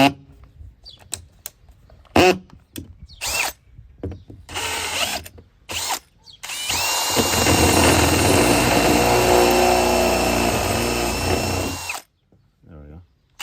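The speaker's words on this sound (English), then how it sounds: "The drill needs to be sharp." A power drill bores a hole in the door panel of a VW Passat B6: after scattered clicks and handling noises, a steady close whine runs for about five seconds, then stops, followed by a brief knock.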